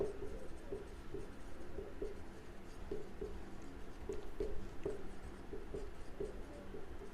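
Chalk or a marker scratches across a board in a quiet classroom, with short rhythmic taps and strokes as words and numbers are written. A faint room hum sits underneath.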